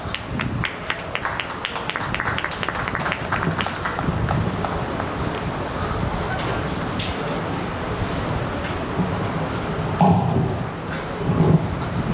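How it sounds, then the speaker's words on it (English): Steady applause from a crowd at a 4-H and FFA hog show, dense clapping continuing throughout with a couple of louder bursts near the end. "Please give him a round of applause."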